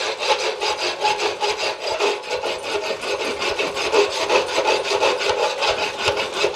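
A rasp files a steel horseshoe clean in fast, even back-and-forth strokes, a continuous loud, gritty scraping rhythm up close with no voices.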